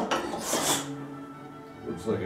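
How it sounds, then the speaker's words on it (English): Hand scraper drawn across wood to remove burn marks on a 19th-century clerk's desk base, giving a close rasping scrape that fades and returns once more near the end. "it's doing a pretty good job of scraping off the burn marks, and it's not chipping out"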